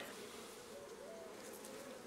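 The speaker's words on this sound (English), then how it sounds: "We've got a nice calm collection of bees." Honeybees buzzing in an opened hive on a farm during a calm inspection, a steady close dense hum with no talking.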